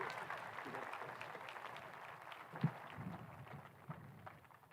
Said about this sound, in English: Big round of applause for all three students that came up here and spoke